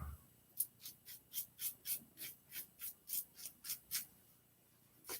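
A razor fitted with a Nacet blade scrapes against the grain through lather in about fifteen short, rhythmic strokes, each a crisp close rasp separated by brief pauses, quiet overall with no talking.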